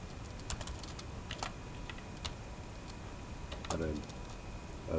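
Someone types on a computer keyboard while building a Simple-SCADA visualization: light, irregular keystroke clicks at a close, quiet level, with a short burst of quick taps near the end.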